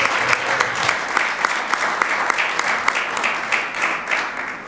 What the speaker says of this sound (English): you can applaud on that because that's cool